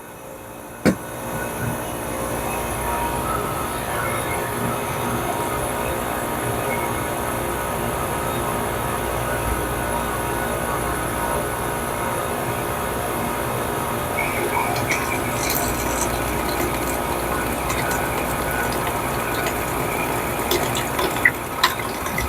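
A Bunn JDF-2 iced coffee machine purges water through its clogged nozzles in a steady, continuous rushing flow, close and fairly loud, with a few faint clicks near the end.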